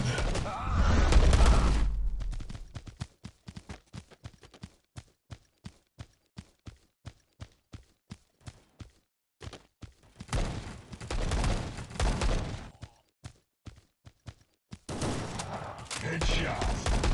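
A shooter video game bursts into a long run of evenly spaced gunshots, loud and close, firing in a steady rhythm for several seconds between denser stretches of booming battle noise.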